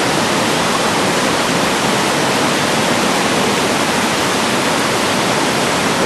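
Water rushes at high velocity out of a concrete culvert barrel on Enoggera Creek after rain, a loud continuous roar of turbulent flow with no pause.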